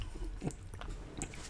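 Someone bites into and chews chili cheese fries up close, producing soft, wet mouth sounds and a few faint crunches over a quiet background.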